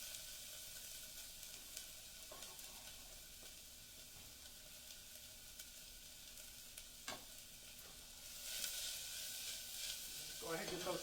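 Onions sizzle quietly in hot oil in a pan, a soft faint hiss that swells louder toward the end, with a few light knocks along the way.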